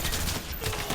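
Gunfire in a capture-the-flag match on the Havana map in a first-person shooter: a short, loud burst of rapid shots, close and harsh, lasting about a second.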